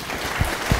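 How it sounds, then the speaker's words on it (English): Short burst of audience applause, a couple of quick claps standing out over a soft crowd wash, brief and close. "That's my second standing ovation."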